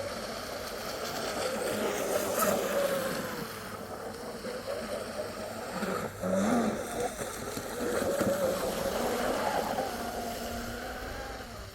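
An upgraded Proboat Blackjack 24 RC boat with a TP Power 3630 motor runs on water, its electric whine rising and falling through turns and passes, with steady wash and breeze beneath. Carries at middle distance, no talk.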